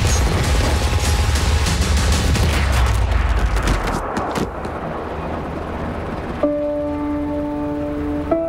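Gunfire in a CBS TV drama scene, with a dense, loud burst of shots and booms that fades out, leaving a quieter tail with a sustained tone near the end.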